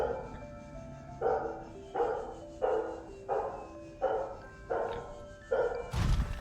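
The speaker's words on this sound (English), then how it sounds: "Oh, there are those puppies." Puppies in Subnautica bark in a steady series of about seven evenly spaced yips over a low rumbling ambient hum, followed by a louder thump at the end.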